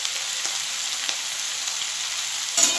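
Spice paste of green chilli, salt and turmeric frying in oil for Bengali googly aloo posto, a dense, steady hiss of sizzling close by with a couple of faint stirring taps and a brief louder scrape near the end, no voices.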